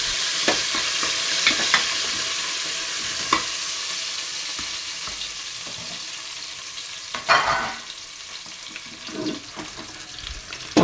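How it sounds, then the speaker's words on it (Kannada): Onion with fresh coriander and mint frying in oil for a tempering, a steady broad sizzle with scattered clicks and scrapes of stirring, a louder scraping burst near the middle; no talking. "ಒಂದು ಸ್ವಲ್ಪ ಈರುಳ್ಳಿ ಹಾಕ್ಕೊತಾ ಇದ್ದೀನಿ ಒಗ್ಗರಣೆಗೆ"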